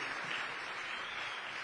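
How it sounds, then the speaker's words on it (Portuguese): A church congregation applauds during a Sunday evening service, a soft continuous patter of many hands clapping, distant and fairly quiet, with no speech over it. "Dê um aplauso aí para a Alessandra"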